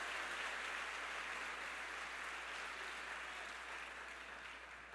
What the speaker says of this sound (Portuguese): Se for para aplaudir Jesus, aplaude com força.